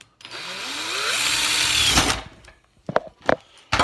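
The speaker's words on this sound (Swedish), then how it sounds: "Man borrar här. Alla fyra hålen på sin sida." A power drill bores a hole into a Christmas tree stand, whining in one burst of about two seconds as its pitch climbs, then cuts off, followed by a few sharp knocks and handling clicks nearby.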